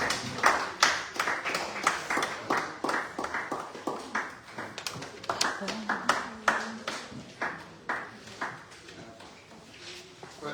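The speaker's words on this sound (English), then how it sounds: "Please give her a round of applause." Scattered hand claps from a modest crowd, a steady run of sharp individual claps that carries on for several seconds without voices.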